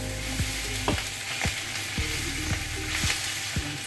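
Scrambled eggs with spinach sizzle steadily in a frying pan while a utensil stirs through them in regular scraping strokes about every half second, alone with no talk.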